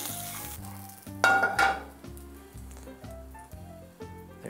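Tilapia fillet frying in a pan, a broadband sizzle with a louder burst of crackling partway through, heard under steady background music.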